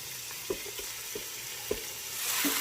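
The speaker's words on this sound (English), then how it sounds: "And you can hear that sizzle." Steady, close sizzling of chicken frying in a hot pan, with a few faint clinks and taps from stirring scattered through.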